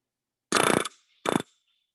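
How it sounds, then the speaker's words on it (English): A pneumatic rivet gun drives a rivet against a bucking bar in an aviation maintenance training shop: two sharp, loud hammering bursts, the first about 0.4 seconds and the second shorter, separated by a brief silence. "You got a rivet installed."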